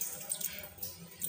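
Water is splashed into a bowl of onion kachori dough, giving a few soft, brief trickling splashes close by in a home kitchen, with no talk.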